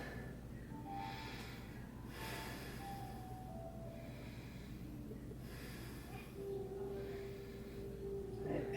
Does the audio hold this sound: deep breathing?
yes